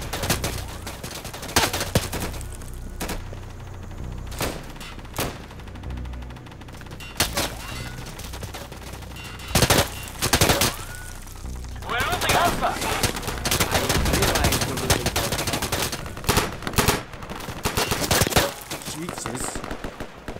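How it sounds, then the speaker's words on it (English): M249 machine gun with hollow point ammo firing in the video game Insurgency, with scattered single shots and short bursts early on and heavier sustained fire later, plus faint talk in the background. "I just got hollow point ammo for my M249, so watch out."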